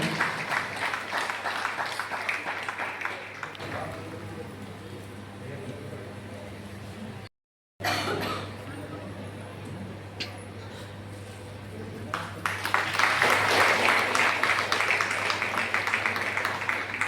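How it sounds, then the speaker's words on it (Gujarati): A crowd at a Shrimad Bhagavat Katha held by the Machhi fishing community in Nani Daman welcomes a guest with applause. It is muffled and mixed with murmuring at first, then swells into a louder burst of clapping toward the end. "તો આપણે એમને જોરદાર તાળીઓથી વધાવીએ."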